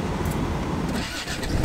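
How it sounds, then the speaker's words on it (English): Land Rover Discovery engine catching on the first try, a short crank and then a steady mid-pitched running rumble close by, with no voices. "Starts straight off, no weird or funny sounds, squeaking sounds."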